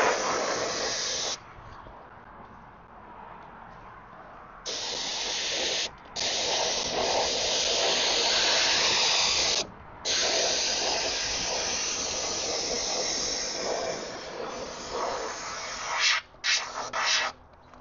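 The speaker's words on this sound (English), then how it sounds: "No, it definitely is painting much less than my other touch-up gun did." A Central Pneumatics (Harbor Freight) 4 oz adjustable detail paint gun sprays paint in long, steady hissing bursts, loud and close, broken by a few brief pauses and ending in quick short spurts.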